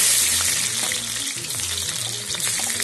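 Onions frying in hot mustard oil in a kadai, a steady close sizzle with crackling spatter throughout, no voices over it.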